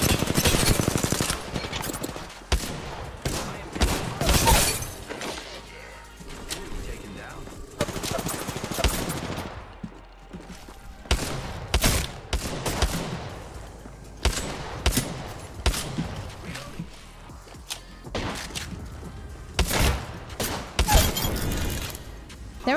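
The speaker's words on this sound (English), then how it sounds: "Eat my bullets, yes." Rapid automatic gunfire from the video game Apex Legends crackles in dense, loud bursts throughout, with sharp individual shots and short pauses between volleys, while players talk over the action.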